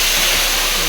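Spices hit hot oil in a pan for a lentil-fritter curry, giving a loud, close, broadband sizzling hiss that holds steady for under a second with no talking.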